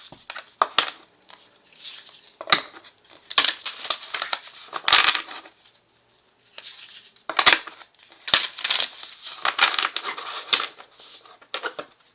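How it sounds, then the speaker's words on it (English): Decks of tarot cards being shuffled by hand, in repeated crisp riffling and slapping bursts that come close to the microphone, with a short quiet pause midway before the shuffling resumes. "Let me shuffle these decks."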